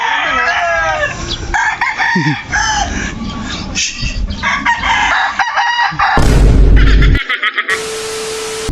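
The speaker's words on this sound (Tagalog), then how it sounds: "Gaganda ng manok na." Several roosters crow in turn, loud and close, with clucking hens and farmyard noise around them.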